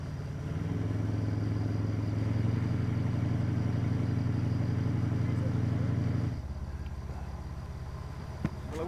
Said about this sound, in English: The revving engine soon sees to that.